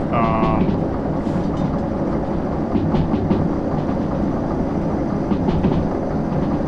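Train in the railway simulator Derail Valley rolling steadily on rails at speed with its brakes applied, a continuous loud rumble with rhythmic clatter and a brief tonal squeal near the start, while a voice talks faintly underneath.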